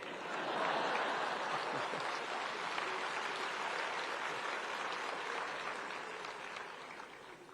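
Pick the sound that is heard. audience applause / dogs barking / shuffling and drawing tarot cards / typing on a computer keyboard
audience applause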